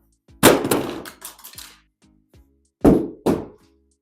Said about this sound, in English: as far as the drop test